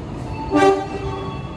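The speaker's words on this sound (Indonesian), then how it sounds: "Sepertinya ada kereta api yang berjalan langsung di stasiun Cirebon ya." Train running through Cirebon station in Indonesia, giving a short horn toot of about a quarter second over a low, steady rumble of rail noise at moderate distance, with no voices.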